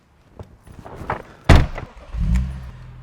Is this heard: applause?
no